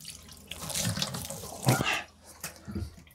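Shower water running in the bathroom of a Concorde Liner GIO 1090 caravan, a steady close spray with splashing that swells and dips over a few seconds.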